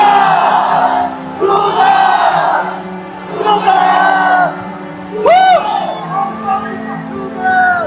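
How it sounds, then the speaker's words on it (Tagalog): A rally crowd shouting together in unison, loud and close, in repeated surging bursts with short pauses between them and a sharp whoop or whistle near the end. "Sabay-sabay, sumisigaw!"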